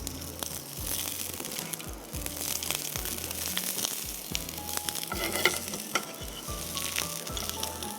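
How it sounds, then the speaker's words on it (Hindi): Potatoes fry in a pan with a soft, continuous sizzle, while a steady low rhythmic thumping beat runs underneath and light scraping and crinkling sounds come and go. "तो मैं अब इसमें आलू डाल रही हूँ।"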